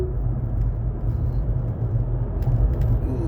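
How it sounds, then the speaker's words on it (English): Steady low road rumble of a car moving through traffic, with engine hum and tire noise continuous throughout at moderate level, no talk. "I just ran into traffic here."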